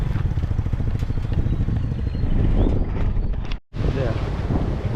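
Steady rushing wind buffets the microphone, with people talking underneath and a brief dropout near the end.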